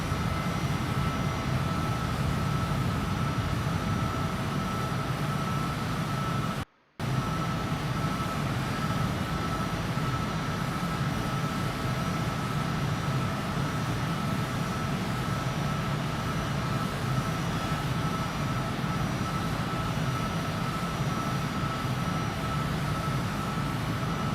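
Loud, steady roar of a small plane's engine in flight, filling the cabin without a break and cut by one brief dropout near the seven-second mark.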